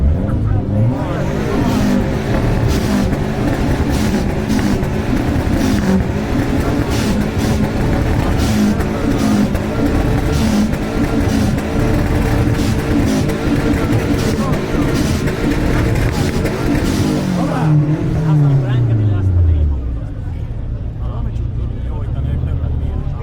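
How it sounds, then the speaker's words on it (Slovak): A Lancia with a 2-litre turbo engine revs loudly and steadily at an exhaust decibel measurement during a car meet, the engine note dropping away near the end while a crowd murmurs and voices talk in the background. "Laco, čo tam máš za motor? 2 liter 16 kg turbo, táto krásna Lancia"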